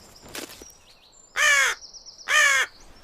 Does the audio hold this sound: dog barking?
no